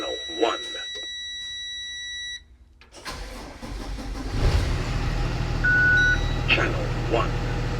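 School bus engine starting during a pre-trip inspection, with dashboard warning chimes and beeps first, a brief pause, then the diesel cranking and catching into a loud, steady idle with beeps still sounding over it.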